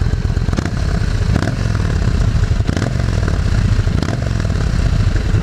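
A Yamaha V Star motorcycle with a drilled exhaust idles and revs close by, a loud, throaty, uneven rumble with periodic surges and clattery crackle and no talking.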